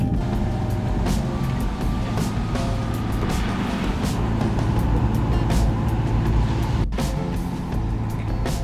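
Car driving along a road in fog, a loud steady engine and road rumble with tire and wind noise, continuous throughout with no talking.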